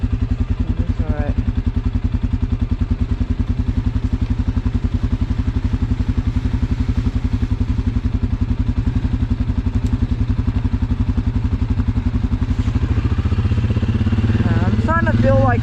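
A Suzuki KingQuad ATV engine runs steadily in four-wheel drive low on a rainy ride, a loud, close, continuous throbbing drone with a rise near the end and voices faintly over it.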